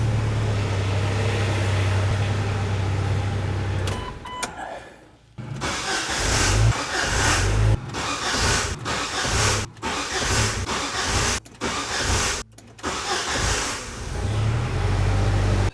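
A Jeep engine in neutral cranks on a Pelsee E1 3500A jump starter and catches, settling into a steady close idle broken by short dropouts, with a low hum beneath before and after.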